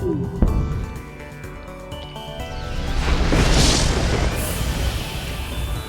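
A ship room struck by weapon fire in the video game FTL, with a sharp impact followed by a rising, rumbling explosive roar and whooshing debris that swells and lingers, loud and close, with no voices.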